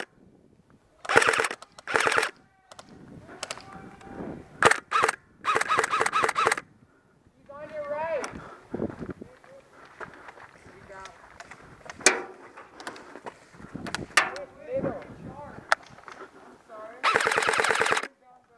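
Airsoft guns firing at an outdoor adventure park game, rapid automatic bursts and single cracks repeating in short clusters, loud and close, with people talking and calling out between volleys.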